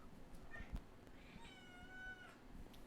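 A house cat indoors gives a short meow followed by a longer, wavering plaintive meow, fairly close and clear over a quiet room.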